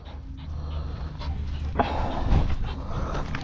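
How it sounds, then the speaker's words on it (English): Dogs out in a vineyard pant close by in quick, breathy bursts, with faint rustling and movement around them and no talking. "Good dogs, good dogs."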